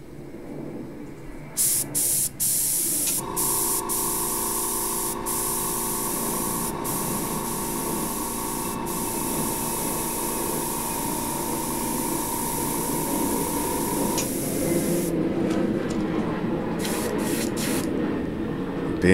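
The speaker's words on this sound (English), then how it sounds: "something about spraying paint for me." Airbrush spraying opaque gray paint: a continuous airy hiss running steadily for most of the span, with a compressor's tonal hum underneath and a few brief clicks at start and end.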